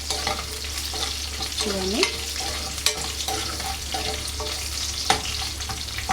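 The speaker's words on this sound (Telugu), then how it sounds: "ఇట్లా వేగుతుంది కదా" Dried red chillies fry in tempering oil for gongura pachadi, a steady crackling sizzle with stirring scrapes and a few sharp ticks, close and moderately loud, while a voice speaks briefly.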